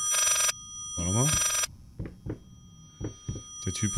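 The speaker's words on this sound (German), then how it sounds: "Telefon klingelt" A telephone in the horror video game Layers of Fear rings loudly in two sharp electronic bursts, followed by someone talking briefly.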